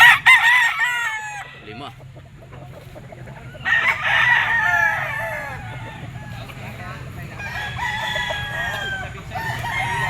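Golden Boy sweater gamefowl rooster crowing at a cockfighting market, a near, loud rasping crow over clucking from other fowl and background crowd chatter.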